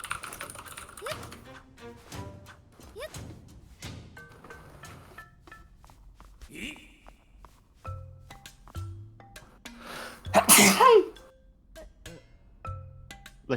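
A person sneezes sharply once, a loud burst that stands out above scattered keyboard typing and small clicks, with some speech heard around it.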